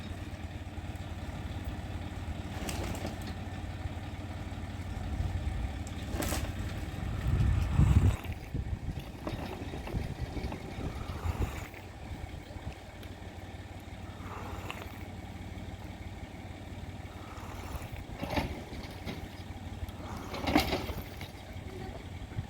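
A tractor's low, rumbling engine runs steadily throughout while pulling out a banyan tree stump, with occasional louder surges and a strained burst of revving midway, heard up close outdoors.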